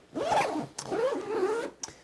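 Zipper on the front pocket of a MindShift BackLight 36L backpack being pulled open, two long rasping runs separated by a brief break, then a short tug, close and clear.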